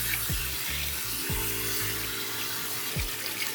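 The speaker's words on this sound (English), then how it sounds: "Wash and now running cold water." Cold water runs steadily from a kitchen tap while soba noodles are rinsed in a strainer, a continuous splashing rush with low thuds and clanks of handling, no talk.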